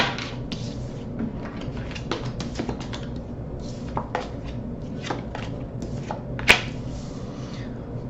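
Tarot cards being handled and shuffled during a reading, giving soft scattered taps and flicks close by with one sharper snap near the end, with no talk over them.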